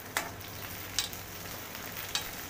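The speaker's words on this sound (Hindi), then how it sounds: "अब इसमें भिंडी को डाल देंगे, जीरा हो गया है। धीरे से डालना है ताकि तेल उसके ना" Okra sizzles in hot oil with cumin seeds in a pan, a quiet steady hiss with a few soft stirring scrapes.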